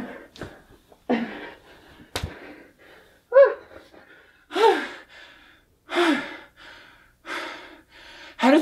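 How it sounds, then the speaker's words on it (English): Heavy, ragged gasping breaths from someone inside a giant teddy bear costume, a series of loud separate inhales and exhales with pauses between them, close and muffled. "I can't breathe!"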